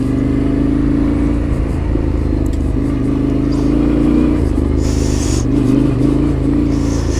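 Off-road motorcycle riding: a steady, loud engine drone runs throughout with rising and falling revs, rattling clatter and bursts of hiss, close and continuous with no talk.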